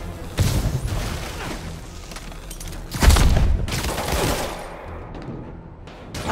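Heavy gunfire in the video game Marvel's Spider-Man Remastered, loud continuous automatic bursts with booming impacts around three seconds, tapering off toward the end, no voices.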